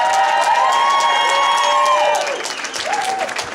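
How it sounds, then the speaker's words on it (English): A loud wrestling event crowd applauds and cheers for WWE Hall of Famer Ted DiBiase, with rising whoops and shouts over dense clapping that eases briefly, then swells again. "how about a big round of applause for WWE Hall of Famer Ted DiBiase"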